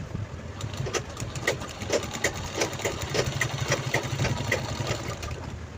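A sewing machine stitches a fabric strip onto a tiffin bag made from an old torn dress, its needle rattling in a steady, close, continuous run with light rhythmic clicks and no talking.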